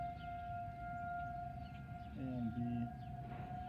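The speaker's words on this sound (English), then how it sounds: "The siren is still going off for the test." Tornado siren test in Grosse Pointe, Michigan: a steady, distant siren tone holds over outdoor ambience, with a louder rising-and-falling sweep near the end and a few spoken words at the start.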